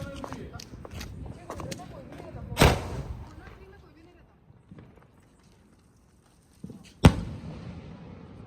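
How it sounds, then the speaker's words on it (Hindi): Sky High firecrackers go off during Diwali celebrations with two sharp, loud bangs several seconds apart, amid scattered distant crackling and background chatter. "अब जलाने वाले स्काई हाई द बेस्ट पटाखा।"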